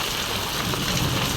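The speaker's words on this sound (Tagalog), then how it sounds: "Ulan." Heavy rain pours continuously during a thunderstorm, a loud, dense hiss of drops on surfaces filling the whole stretch with no voices.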